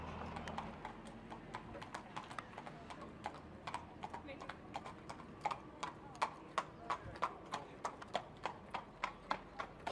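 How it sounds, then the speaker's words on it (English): Horse hooves clip-clop in a steady, evenly spaced rhythm that grows clearer and more regular over the ten seconds, while someone talks over it. "Kid knows how to ride a horse."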